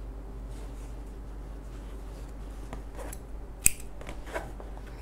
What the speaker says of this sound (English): Cut my yarn.